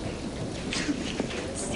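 Steady rain with soft rumbles of thunder from a storm outside a house, heard from indoors at moderate level, with a couple of faint knocks and brief voices in the background.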